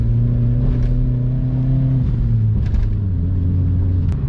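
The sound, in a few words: Vauxhall Corsa car engine accelerating while driving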